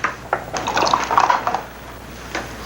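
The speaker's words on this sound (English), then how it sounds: "you want to pour it in there and measure 2 cups first" Coconut milk poured into a measuring cup: a short stream of liquid splashing and gurgling in the middle, with a few light clinks of the cup before and after.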